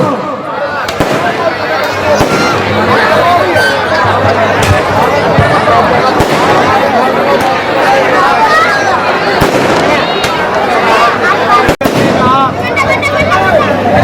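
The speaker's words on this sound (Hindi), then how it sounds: "जो आतिशबाजी चला रहे हैं कृपया करके आतिशबाजी बंद कर दे।" Fireworks and firecrackers going off at an outdoor Ramlila Dussehra festival, a dense continuous crackle of bursts with one sharp loud bang near the end, mixed with crowd chatter and loudspeaker speech throughout.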